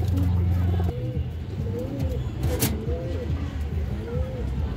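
Several pigeons bred for long-distance racing flights coo in repeated low warbling calls at close range, steady under a voice, with faint passing traffic noise behind them.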